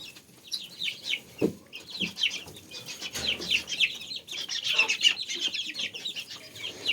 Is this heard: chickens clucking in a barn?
yes